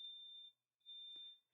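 A building fire alarm under testing sounds two sharp high-pitched beeps of about half a second each, split by a brief gap, faint and indoors with a small knock in between.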